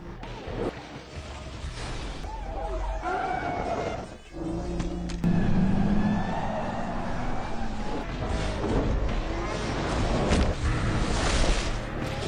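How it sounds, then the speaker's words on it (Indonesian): A police car chase from the action film Transporter 2, with engines, crashes and sirens layered into a loud, continuous film soundtrack of swelling noise and music-like tones throughout. "aksi kejar-kejaran pun terjadi antara polisi, Frank, Lola, dan Jake"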